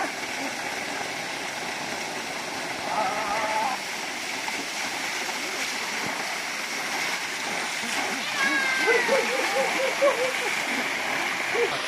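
Bheeman Waterfall in the Jawadhu Hills, Tamil Nadu, running low, gives a steady splashing rush of water close by across the whole stretch, with faint chirps and a few brief higher sounds over the wash.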